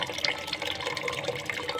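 Water poured into a bowl for pigeons, a steady close splashing and gurgling stream with bright, bubbly droplet sounds throughout the short pour.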